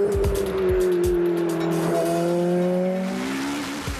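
A Ferrari F430 with a 490-horsepower V8 screams on a race track. The loud, close engine note rises and falls through gear changes, with a brief tire squeal early on.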